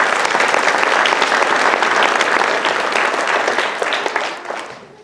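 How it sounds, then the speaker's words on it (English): An audience at a university English department graduation convocation claps in a thick, sustained round of applause that stays full for several seconds, then thins and fades away near the end. "So please give them a round of applause."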